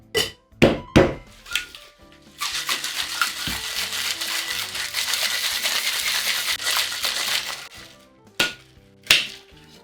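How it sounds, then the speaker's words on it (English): Ice rattling hard inside a cocktail shaker while a tiki-style Scorpion Bowl with almond syrup is mixed, opening with a few loud separate knocks, then several seconds of dense continuous shaking and a couple of final thumps. "now we're going to add our ice and give this a really good shake"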